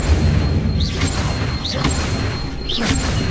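Incendio fire spell cast repeatedly in Hogwarts Legacy, three swooshing flares with rising whistles at even intervals over a constant rumbling game backdrop.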